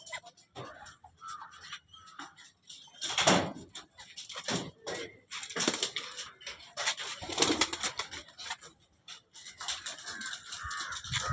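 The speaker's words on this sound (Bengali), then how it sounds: "পায়রা ছেড়ে সকালবেলায় নামছে বাচ্চা পায়রা।" Pigeons on a rooftop give soft cooing calls mixed with other bird sounds, including crow-like caws, with several louder bursts spread irregularly over a quiet background.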